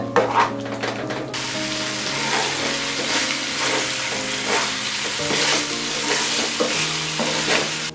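A spoon stirs fried egg pieces, coated in corn flour, through a thick gravy in a hot pan, giving steady scraping and sizzling close by, with the stirring strokes repeating rhythmically and no talking.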